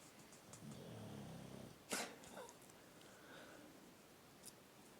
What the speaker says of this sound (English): she's snoring away